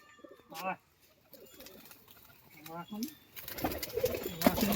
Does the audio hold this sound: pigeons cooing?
yes